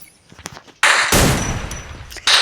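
Gunshots in a shooting video game, sharp loud blasts from a one-shot weapon that cut in abruptly with ringing tails, separated by quieter stretches of faint game noise.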